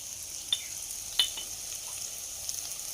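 Garlic and ginger frying in a pan make a faint, steady sizzle, broken by a few light clicks of a utensil.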